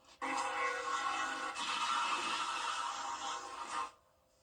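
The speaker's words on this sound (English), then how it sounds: "Video from Goose Creek, South Carolina shows a train hitting a semi-truck." A loud, sustained train horn blares for nearly four seconds at a Goose Creek, South Carolina crossing as a train strikes a semi-truck, with a harsh rise in noise partway through.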